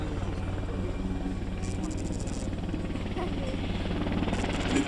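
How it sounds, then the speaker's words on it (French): An American attack helicopter with two engines flies past at an air show in Sarlat-Domme, its rotor thumping in a steady, continuous rhythm and its turbine whining throughout. The sound is loud and close, with a spoken voice underneath. "l'hélico d'attaque américain"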